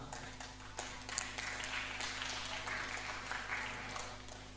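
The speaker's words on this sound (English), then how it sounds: "Clap for her." Applause for a teenage girl who sings, given in a church Sunday school class: scattered clapping from a small group, fairly steady across the clip over a low room hum.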